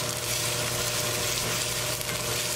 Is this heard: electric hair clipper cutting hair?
no